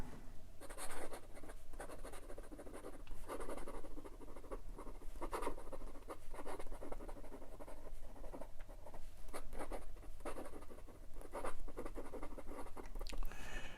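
Artimber Octagon fountain pen nib writing quickly on paper, a close, steady scratchy rustle of continuous strokes and short pauses, with no talking.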